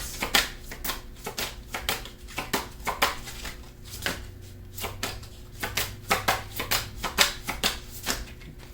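Tarot cards are shuffled and handled close up, giving rapid papery riffles and slaps in uneven bursts over a quiet low background hum, with no voices.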